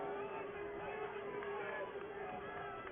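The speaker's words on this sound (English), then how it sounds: "You can hear the disdain from the Elder crowd" A high school football crowd at an Ohio regional final jeers in disapproval, a steady murmuring din of voices rolling on throughout, with talk on top.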